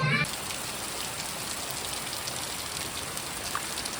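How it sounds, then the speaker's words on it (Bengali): Heavy rain pours down in a steady, close, even hiss of drops on surfaces, after a brief bit of other sound right at the start. "আজ খুব বৃষ্টি হচ্ছে।"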